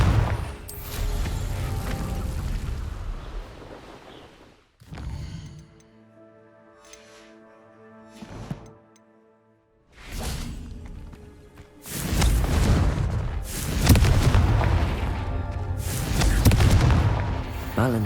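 Blasts of the Confringo fire spell explode in the Hogwarts Legacy video game, arriving as loud booming bursts at the start and again near the end, with a quieter stretch of ringing, tonal magical effects in between.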